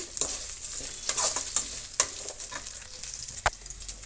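Sliced onions and curry leaves fry in a hot pan, giving a steady close sizzle with scraping stirs and a few sharp spatula knocks; no one speaks.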